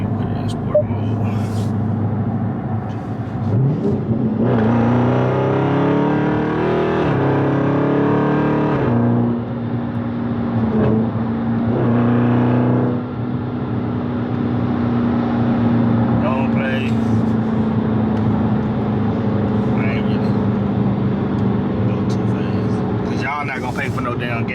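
A 2021 Dodge Charger Scat Pack Widebody engine rumbles in sport mode, a loud, close, deep idle that rises into a revving roar for several seconds before settling back, with someone talking over it.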